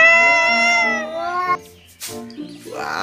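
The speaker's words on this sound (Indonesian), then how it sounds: "di sini ada hewan kucing meong-meong" A cat lets out a long, drawn-out meow up close, followed by a couple of shorter, softer mews.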